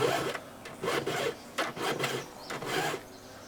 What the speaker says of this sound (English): after you file the tooth back a ways